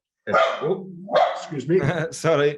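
A dog barks nearby in a room, its loud yelps mixing with a voice as he speaks and apologizes over the interruption.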